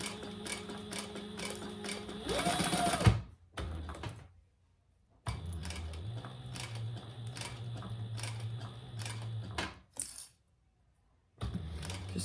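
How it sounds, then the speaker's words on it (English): An industrial sewing machine stitches an eyeglass case in several runs, a fast mechanical whirring rattle that starts and stops with quiet gaps between bursts, close and fairly faint. "I'm using my industrial machine, but this is a very domestic friendly project."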